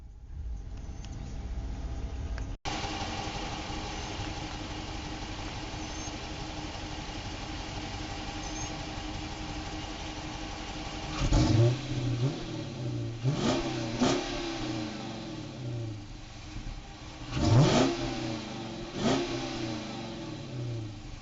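A stock-exhaust 2015 Dodge Charger R/T with a K&N intake idles steadily for about ten seconds, then its engine is revved in several sharp bursts, two of them especially loud, with no talking over it.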